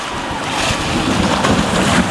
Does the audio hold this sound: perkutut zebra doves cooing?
no